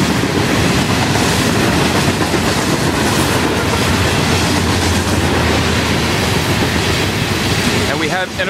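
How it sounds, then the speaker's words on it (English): An FEC freight train rolls past at close range in Sebastian, grain hopper cars rumbling by with steady wheel clatter that stays loud and continuous throughout. "Now we got grain cars approaching."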